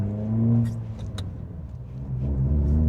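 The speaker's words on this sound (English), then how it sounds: "Pulling out onto the road in our little Honda Fit." A small Honda Fit hatchback with high mileage pulls out onto the road, its engine a low steady rumble rising gently as it accelerates, close and moderately loud with no talking.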